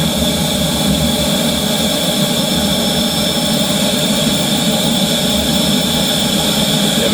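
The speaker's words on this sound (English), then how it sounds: "I'll give it another blast with the air just to purge what's in the filter" A loud, steady rush of compressed air blasts through a filter to purge it, a continuous roaring hiss that holds at full strength for the whole seven seconds with no voices.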